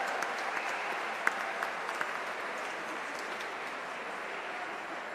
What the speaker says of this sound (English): Big round of applause for Claire